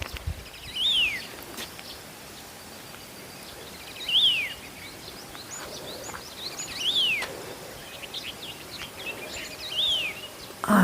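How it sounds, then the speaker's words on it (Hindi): Several birds chirp and call in a quiet early-morning setting beside dried-out chilli fields in an Uttarakhand village, with short distinct call phrases recurring every few seconds against a soft background of rustling. "मतलब चिड़िया की आवाज़ सुनाने के लिए मैं चुप हूँ।"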